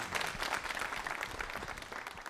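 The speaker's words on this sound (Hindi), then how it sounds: "बहुत तालियां जोरों से बजाइए सब आपके लिए" Studio audience applause on a Hindi quiz show, steady dense clapping that fills the whole stretch at even strength with no talk over it.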